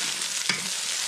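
Vegetables are stir-fried in a wok at a roadside camp, giving a steady, loud hissing sizzle with one brief scrape of a spatula partway through, and no voices.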